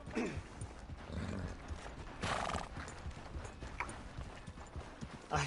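Horse hooves clip-clop along in Red Dead Redemption 2, with a whinny partway through, all fairly quiet and distant against soft game ambience and no talk.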